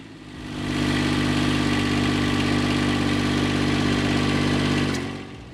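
Engine of a Kranman P20-25 forestry processor running, a steady mid-pitched droning hum that rises in over the first second, holds evenly and cuts off near the end, heard alone without talk.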